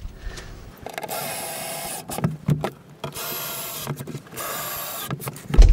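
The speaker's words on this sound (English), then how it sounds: "Now I can secure it in place with a couple of our favourite tongue-tight screws." A power driver sets screws to secure a wooden two-drawer cabinet against a solid wall, with several loud whirring bursts of a few seconds each, separated by short pauses and clunks, close by and without speech.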